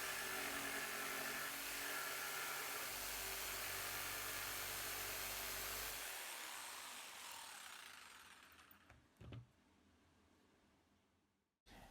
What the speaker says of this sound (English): just take the jigsaw and cut it